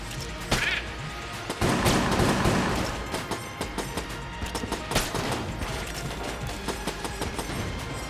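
Gunfire in Enter the Gungeon, a run of sharp shots and impacts, some in rapid bursts, over a busy bed of game sound, with no talking.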